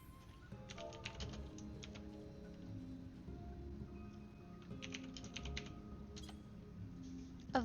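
Rapid keystrokes on a computer keyboard, a steady patter of clicks close up over a soft background hum with game music, no talking.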